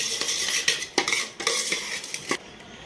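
A spoon mixes crunchy namkeen snack with chickpeas and peanuts in a metal bowl for jhalmuri, a rapid run of close, loud rattling scrapes and clinks in uneven bursts.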